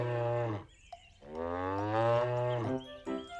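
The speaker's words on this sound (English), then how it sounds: "We can hear the cow go moo." A cartoon cow gives two long, loud, sustained moos, the first brief and the second drawn out over a couple of seconds, with a short higher call at the end, heard alone with no talk.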